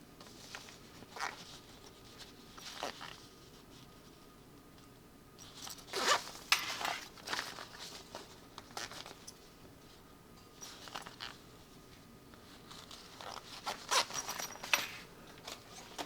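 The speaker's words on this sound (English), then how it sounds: "Might as well get the zipper pull on here now." A zipper pull is fitted onto a zipper, giving short zipper rasps in separate bursts with quiet handling noise between them, close up and fairly soft.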